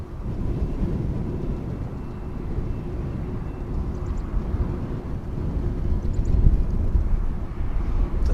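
A Kalitta Air Boeing 767 in DHL livery rumbles at DFW Airport, a steady, fairly distant low roar of jet engines that swells slightly toward the end amid wind.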